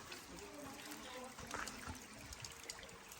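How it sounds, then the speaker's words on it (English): Water trickles down the fern-covered walls of Fern Canyon in Redwood National Park, a soft continuous dribbling and splashing close by, with faint background murmur. "Look like the water just coming off the sides."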